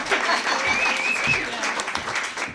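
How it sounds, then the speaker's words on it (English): A crowd applauds steadily, a dense wash of many hands clapping at once, sustained at an even level throughout. "Give him a round of applause."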